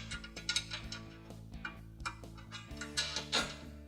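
Nut being spun onto a carriage bolt under a CBI gas tank skid on a 2016-2020 Toyota Tacoma, giving quiet close metallic ticks and small ratcheting clicks in an irregular rhythm.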